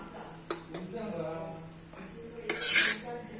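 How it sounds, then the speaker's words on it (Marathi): Methi thepla flatbread roasting on a pan over high flame with oil, ghee or butter: sharp clanks of a metal spatula against the pan as the bread is turned over and over, with a soft sizzle and a voice speaking in between. "सारखं अलटून पलटून आपल्याला हे भाजून घ्यायचे आहे"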